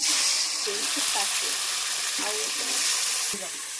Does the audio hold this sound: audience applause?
no